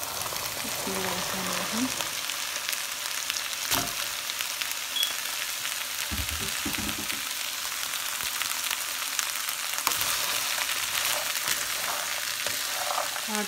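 Chickpeas frying in a pan with turmeric, salt and chili, a steady loud sizzle with brief stirring knocks while someone talks now and then.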